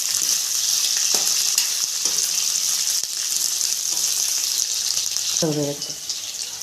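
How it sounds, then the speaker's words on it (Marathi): Green chilies saute in hot oil in a pan for sabudana khichdi, giving a loud, steady, close sizzle with occasional stirring scrapes, and someone speaks briefly near the end. "याच्यामध्ये मिरची टाकून घेते हिरवी मिरची त्याला एक अर्धा मिनिटभर उभी परतून घ्यायचं आहे"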